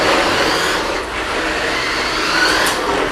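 A FEILUN LK815 Land King 1:10 entry-level RC truck drives close by, its small motor giving a steady, loud whirring rush with a slight dip midway.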